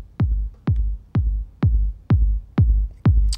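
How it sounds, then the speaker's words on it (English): A kick drum with slight distortion, struck seven times in a steady, evenly spaced beat, each hit a punchy low thump with a gritty edge and a short decay, loud and alone. "Just put some slight distortion on the kick."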